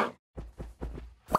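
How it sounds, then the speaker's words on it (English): Hitting a baby polar bear in Minecraft, a video game: a few short soft hit sounds in a quick uneven series, ending on a brighter thud, close and alone. "It's hitting a baby polar bear."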